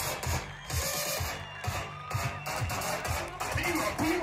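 A crowd at a strongman competition in Piła cheers and shouts in swelling bursts, voices rising and falling over an announcer's amplified voice and background music.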